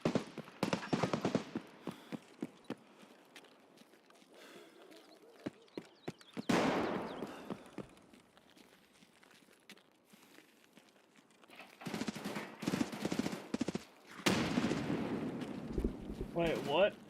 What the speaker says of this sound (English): I'm hearing bullets, or I'm hearing gunshots from a couple of different places.